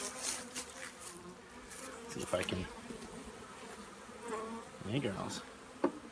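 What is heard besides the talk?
honeybees buzzing at an open hive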